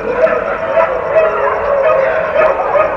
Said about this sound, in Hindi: तब तक ये देखिए कितनी तेज़ भौंकना शुरू हो गए हैं